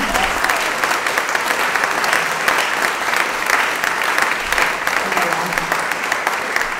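Sustained applause from an audience inside a Protestant temple in Saint-Christol-lès-Alès, dense steady clapping filling the whole stretch at an even, fairly loud level.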